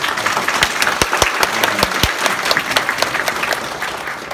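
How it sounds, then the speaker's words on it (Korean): Audience applause at a seminar, loud and steady with many hands clapping close together and a few sharp individual claps standing out near the start, no voices over it. "여러분들을 위해서 한 박수 한번 보내주세요"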